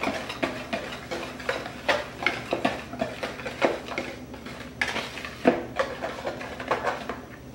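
A whisk beats pumpkin chocolate chip cookie dry ingredients, flour and salt, in a bowl, tapping and scraping against the sides in a quick, regular rhythm of light clinks, close and moderately loud.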